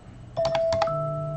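A smartphone gives a loud notification alert: a quick run of bright electronic beeps that settles into a sustained steady tone, close and clear over faint room hiss.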